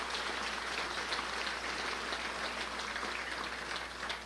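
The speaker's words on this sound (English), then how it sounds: "Let's give them a round of applause for all the excellent food you're eating here tonight." Audience applause at a dinner during the Crown Point State of the City 2019 event: a steady, dense wash of many hands clapping, sounding somewhat distant and fairly faint, sustained throughout without voices.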